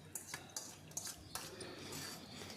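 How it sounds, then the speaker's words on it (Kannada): Khichdi with fried tomato and onion being stirred in a pressure cooker, a quiet series of utensil scrapes and clinks against the metal pot at an irregular rhythm, close and faint. "ಕುಕ್ಕರ್ಗೆ ಮಿಕ್ಸ್ ಮಾಡ್ಕೊತಾ ಇದ್ದೀನಿ."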